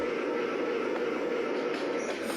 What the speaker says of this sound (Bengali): ওই দিক থেকে একটা ট্রেন আসছে